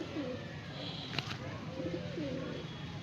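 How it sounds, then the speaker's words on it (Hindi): Babra pigeons in Bareilly coo softly at a distance, low repeated burbling calls under steady outdoor background noise, with one brief sharp click partway through. "बबरा कबूतर हमारे शहर बरेली की शान जिसको बोला जाता है"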